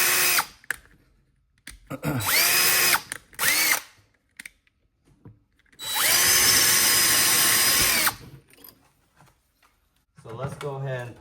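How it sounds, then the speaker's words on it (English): Cordless power drill pre-drilling into thick drywall for an anchor, several short whirring bursts followed by a longer sustained run, close and loud, with brief talk near the end. "So let's go ahead and pre-drill."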